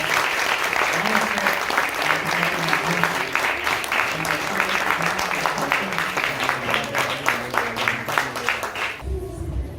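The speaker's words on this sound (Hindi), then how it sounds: "एक बार जोरदार तालियां।" Audience applause for a stage play at a folk festival, sustained rhythmic clapping from a crowd that keeps going for several seconds under a voice speaking over a loudspeaker, then cuts off abruptly.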